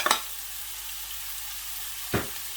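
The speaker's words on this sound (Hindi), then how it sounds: "ऑयल गर्म हो चुका है। सबसे पहले मैं इसमें प्याज ऐड करूँगा जो कि मैंने बारीक बारीक काटा हुआ है।" Chopped onions hit hot oil in a pan, setting off a steady sizzle with a brief burst of spattering at the start and another stir-like rustle near the end.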